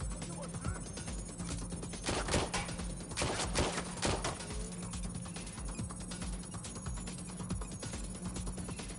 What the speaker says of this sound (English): Gunfire over here.